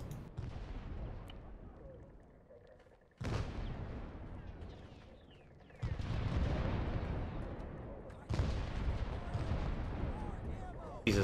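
Mortar shells burst nearby in a Vietnam-era jungle firefight in ARMA 3 S.O.G. Prairie Fire, several loud booming impacts a few seconds apart, each leaving a long rumbling tail, with muffled talk underneath.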